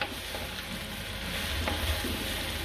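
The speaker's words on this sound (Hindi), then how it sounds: "ये भिंडियां शामिल करके तकरीबन 10 मिनट हमने इन्हें फ्राई किया है जी" Okra, tomatoes and green chillies frying in a pan give a steady, dense sizzle that continues unbroken and stays fairly loud and close throughout, with no talking.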